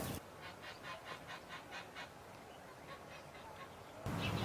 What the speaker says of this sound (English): Domestic pigeons,